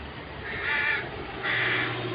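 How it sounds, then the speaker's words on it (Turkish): Crows caw outdoors, two harsh, drawn-out calls about a second apart, loud and near over a low hum of background noise, with nobody speaking. "kargalar bağırıyor."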